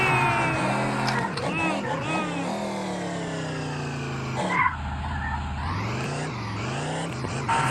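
A car in the Chicken Gun video game pulls away loudly, its engine droning and rising in pitch with tire-like squeals, then dropping and surging again as it drives off, with game noise throughout.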